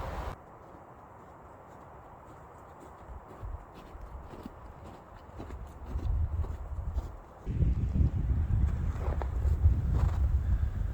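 Hooves of horses carrying five mounted cowboys clop past on an open, windy trail, faint at first and then growing closer and louder under steady wind noise.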